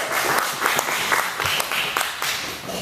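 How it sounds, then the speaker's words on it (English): A meetup audience applauds a presenter named Jared with steady, dense clapping that fills the whole stretch, close and fairly loud. "A big round of applause for Jared."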